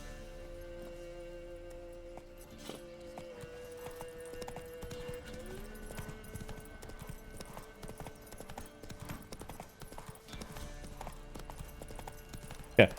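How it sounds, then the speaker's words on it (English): Hooves of Roach, the horse in The Witcher 3, clip-clop in a steady trotting rhythm over faint game music, a brief whinny-like burst near the end, and no speech over it. "Roach, come to me, my trusty steed."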